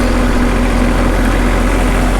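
A small tractor engine runs at a steady idle, a loud continuous close-up drone with a low, even hum and no breaks.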